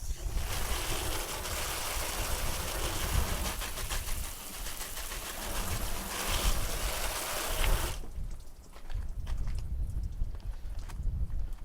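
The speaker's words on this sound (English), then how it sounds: "just a little bit of water out of the hose, you don't want high pressure, and just rinse everything down" A garden hose at low pressure rinses down a Corvette engine bay, a steady loud spraying hiss of water that drops away sharply near the end, leaving softer splashing and dripping.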